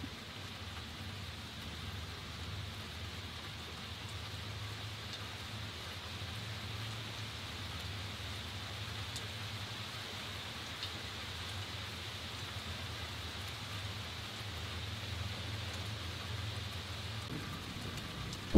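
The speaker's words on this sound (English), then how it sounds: "Tonight's story will feature relaxing rain sounds mixed with an allegedly true story about a gas station" Steady rain falls continuously with an even, soft hiss and a low background rumble, unchanging and with no voices over it.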